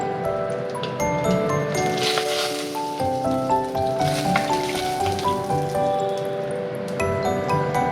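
Cumin seeds, dried chili and bay leaf sizzle in hot oil, with steady crackling and small pops close by for a kochu ghonto curry. A voice is faintly present under the frying.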